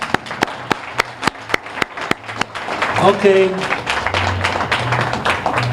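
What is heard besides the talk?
audience applause at an awards dinner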